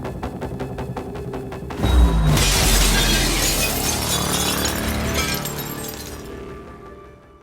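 Glass shatters loudly after a wrench strike in the video game Prey (2017), a sudden crash followed by several seconds of tinkling, scattering shards that slowly fade out.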